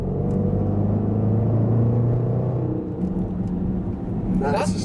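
Deep, steady engine rumble from a custom Range Rover SVR by Urban Automotive, low and droning throughout, easing slightly near the end with a faint hiss.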